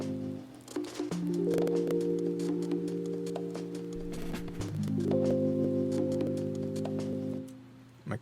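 A beat playing sustained piano chords from Addictive Keys over a drum groove, with steady percussive hits and a chord change partway through, moderately loud throughout.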